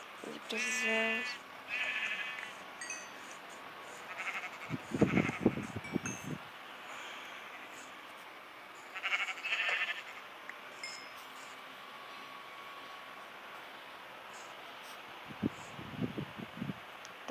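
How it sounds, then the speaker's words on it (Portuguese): Sheep in a Minecraft survival world bleat several times, short wavering calls near the start and middle, with scattered rustling and footstep-like sounds between them. "Ovelha."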